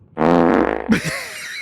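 A recorded fart rips out loud and close as a single buzzy, vibrating burst lasting under a second, followed by a brief squelchy tail.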